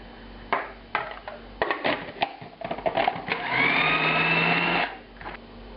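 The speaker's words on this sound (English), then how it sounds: "I'm going to give this a little grind first." Kitchen grinder working an egg yolk mixture for veal meatballs, a few short pulses followed by a steady motor whir of about a second, then a stop, close and fairly quiet.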